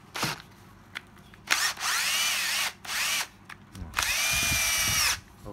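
Secondhand cordless battery drill running in short bursts, about three spaced whines of the motor revving up and winding down, close and loud, with light handling clicks between runs.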